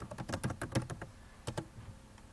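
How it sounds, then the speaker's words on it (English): Keys tapping on a computer keyboard in a quiet room: a quick run of close, crisp clicks for about a second, then a short pause and a couple more keystrokes. "You can type your name,"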